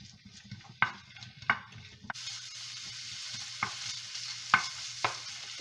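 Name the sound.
Italian sausage browning in olive oil in a pan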